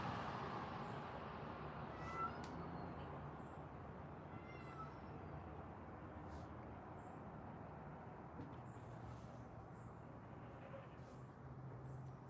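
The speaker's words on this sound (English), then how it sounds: "My cats are also crying for food." Several house cats meow for food, faint, intermittent cries over a steady background hum and rumble, with no talking.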